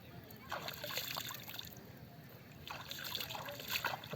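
Clear haor water splashed onto the face outdoors at dusk, two bursts of close splashing and trickling separated by a quieter pause.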